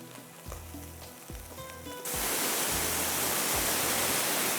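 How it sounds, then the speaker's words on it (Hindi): Water is poured into a hot pan of aalu gosht, meat and potatoes cooked with whole spices, and the gentle sizzle with light stirring clatter jumps into a loud, steady hissing roar. "यहाँ पर डालेंगे पानी"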